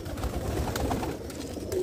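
Saharanpuri Kalsera pigeon cooing, with soft low coos repeating over a steady murmur of birds close by. No voices are heard.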